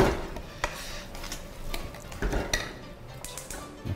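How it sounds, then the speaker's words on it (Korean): Fried shrimp tossed in a thick chili sauce in a pan, with scattered clinks and scrapes of a utensil against the pan and soft stirring over a faint sizzle, close up and without talk. "튀김을 넣어주고 버무리면"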